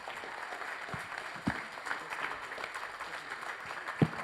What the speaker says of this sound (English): let's give our candidates a big round of applause.